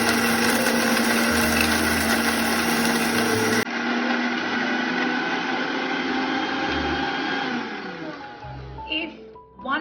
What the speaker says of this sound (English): We are going to grind it into a good paste.